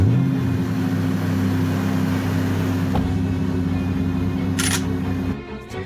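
A car in an animated series drives up with a steady mid-pitched engine hum throughout, a brief click partway, fading out at the end, with no talk.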